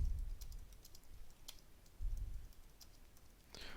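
Soft, quiet keyboard typing in short bursts of clicks with brief pauses, close and alone without any talk.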